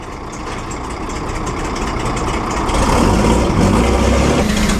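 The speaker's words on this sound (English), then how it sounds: "Sounds like a truck. It's a Talbot too. Beastly sounding engine" A vintage Talbot race car's heavy, throaty engine idles and rumbles steadily nearby at the Mille Miglia, swelling slightly louder partway through, with no talking.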